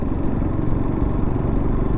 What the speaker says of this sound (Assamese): পূৰা বাইকখন জাম্পিং কৰিছে